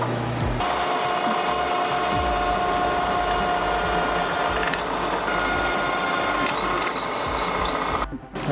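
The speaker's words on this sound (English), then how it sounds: "I'm gonna drill out on the Bridgeport." A Bridgeport milling machine drills holes in metal parts for a car project, giving a steady mechanical whine with a sustained tonal hum and grinding texture that runs for several seconds and then stops abruptly near the end.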